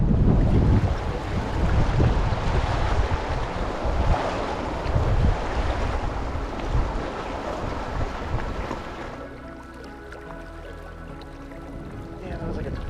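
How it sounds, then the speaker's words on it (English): Strong western wind blows outdoors on the water during a Colorado fly fishing trip, buffeting the microphone with loud rumbling gusts over lapping waves, then easing off slightly near the end. "this western wind is no joke"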